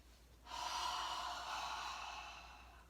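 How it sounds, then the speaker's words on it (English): One long, close nasal inhale, a soft hissing sniff that starts abruptly and slowly fades out. "So breathe in through your nose."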